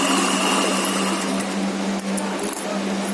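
A sewing machine runs steadily while stitching a pant seam, a loud close continuous motor whir with a constant hum, briefly dipping once near the end.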